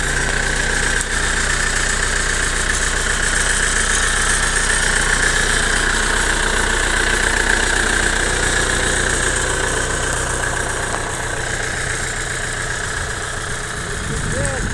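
A small 65-horsepower tractor engine runs steadily at idle, a continuous close mechanical drone with someone talking over it throughout.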